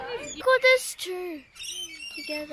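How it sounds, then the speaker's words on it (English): Birds at the Healesville Sanctuary zoo give a few short chirps and squawks at close range, mixed in with people talking nearby. "Hang on, there's some birds there."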